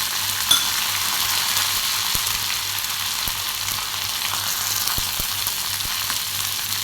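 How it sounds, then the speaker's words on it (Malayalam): Onions frying in hot oil for chicken kurma with curry leaves added, a steady close sizzle running throughout with a few faint clicks and no voices. "ഇപ്പം നമ്മുടെ ഉള്ളിയെല്ലാം നന്നായി ഫ്രൈ ആയി വന്നിട്ടുണ്ട്. അതിലോട്ട് കറിവേപ്പില ചേർത്ത് കൊടുക്കാം."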